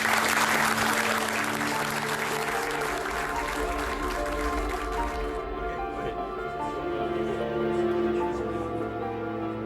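An audience at the Airbus A350 XWB inaugural flight event applauds in a sustained dense wash of clapping, with a low hum of the venue running under it throughout.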